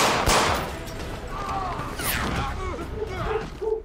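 Gunfire in an interactive story video game, with bursts of shots layered under narration and game sounds, moderately loud and close.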